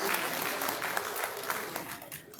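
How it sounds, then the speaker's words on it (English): Steady applause from an audience at a decoration ceremony for newly promoted senior officers, a sustained dense clapping that fades slightly toward the end. "Let's celebrate them with a round of applause"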